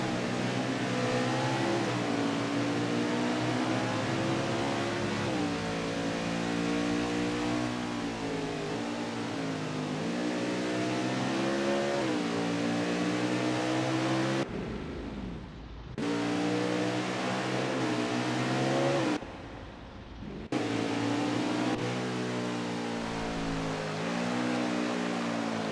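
Onboard Xfinity stock car engine at Mid-Ohio road course, a loud continuous roar with rising and falling revs through gear changes in the closing laps, broken by two brief dropouts.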